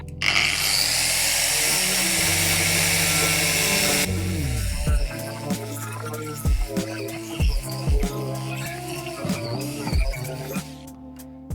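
A power tool with a twisted wire brush grinds rust off a Transit van sill, first as a loud, steady high whine, then as a series of repeated short bursts that each spin up and wind down.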